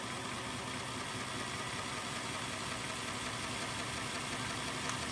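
A Hornby model locomotive motor spins up on a rolling road, giving a steady, continuous whirring hum that stays loud and even throughout without any talk.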